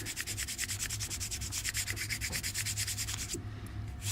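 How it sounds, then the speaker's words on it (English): Steady rhythmic sanding of a plastic model kit part, quick back-and-forth strokes of abrasive rubbing, close and continuous, stopping near the end. "once you get the cross sanding done, you can smooth it by going your regular back and forth"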